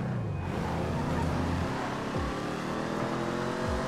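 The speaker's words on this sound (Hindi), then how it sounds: "आवाज़ सुन रहे हो उसके एग्जॉस्ट की, बहुत प्यारी आवाज़ निकालती है यार ये गाड़ी" A Ford Mustang engine in GTA 5 drones steadily with a throaty exhaust note, rising and dipping slightly in pitch as it cruises, loud and close.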